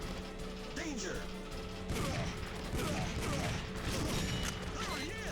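Gunfire in the video game Gabriel Knight: The Beast Within, heard as rapid mechanical clattering bursts and clicks that run continuously and fairly loud, with a short break near two seconds before the shooting resumes.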